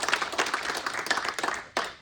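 Scattered clapping from an audience at a United Nations side event, a modest, fairly quiet round of applause with uneven claps and a final burst near the end.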